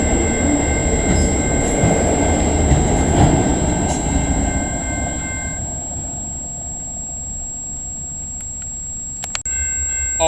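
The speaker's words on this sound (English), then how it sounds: "we got a CN westbound right here with an AC44 C6M" A CN westbound freight train led by an AC44C6M locomotive rumbles steadily nearby in London, Ontario, its low roar fading slightly midway, with faint wheel noise and a brief clank near the end.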